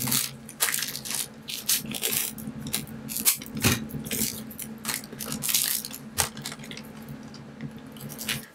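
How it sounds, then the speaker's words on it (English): Packing tape crackles and crinkles as it is pressed onto the backs of rose-shaped resin coaster molds, a busy run of close rustling and sticky tearing noises with no talk. "now I'm going to add my packing tape onto the back of both roses"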